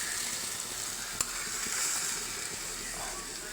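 Chicken curry sizzles steadily in a frying pan, a constant soft hiss with a faint clink and a few light scraping stirs, close but fairly quiet.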